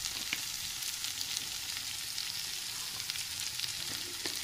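Capsicum and spices fry in oil with tomato ketchup stirred in for a pasta sauce, giving a steady, close, dense sizzle that carries on evenly throughout with only faint stirring ticks and no voices.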